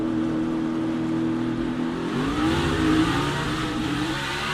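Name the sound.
NASCAR Xfinity race cars accelerating on restart, tires spinning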